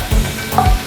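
Dry spices, including crushed red chilli and turmeric powder, hit a hot pan with a brief loud sizzle, and two soft stirring thumps sound under it.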